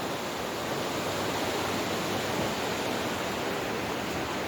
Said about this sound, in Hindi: यहाँ आप पानी का म्यूजिक भी सुन सकते हैं